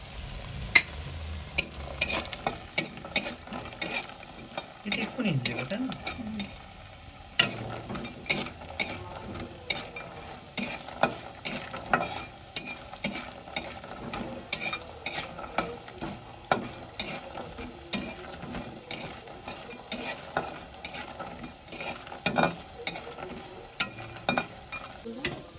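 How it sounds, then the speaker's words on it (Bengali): Bori lentil dumplings fry in oil in a home kitchen, with steady close sizzling and frequent sharp clacks of a utensil stirring against the pan, and a brief voice speaking. "এখন বড়ি এগুলো আবার ভাজা করা হবে"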